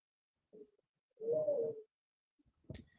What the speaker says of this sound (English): Is there like a bird or an owl or something?